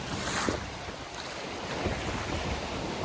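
Steady rushing surf at Malvan beach with wind buffeting the microphone, sea waves washing in continuously with a couple of louder surges.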